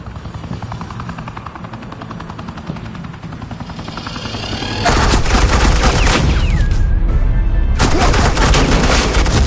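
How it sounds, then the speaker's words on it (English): Suppressing gunfire in a Batman video game: rapid automatic bursts burst in loudly over a steady helicopter-like engine drone, sustained and close, with no talk. "This is Agent Quinn, suppressing fire."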